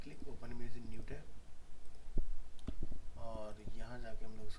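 A few sharp computer mouse clicks snap out during an HTML class lesson, a couple of distinct clicks in a pause between stretches of talking.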